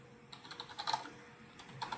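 Code being typed on a computer keyboard: quick, irregular clusters of light keystrokes, fairly faint and close, with no talking.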